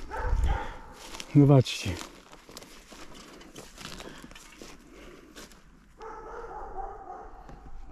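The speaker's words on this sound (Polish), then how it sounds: "Pies mi tutaj szczeka." A dog barks a few times outdoors in a forest during a mushroom hunt, fairly close and brief, with someone talking around it.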